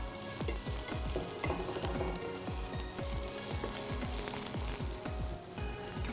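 Cut broccoli tossed into a hot pan of olive oil and garlic, with steady close sizzling and frying crackle under repeated rhythmic stirring or tossing strokes, with no talk.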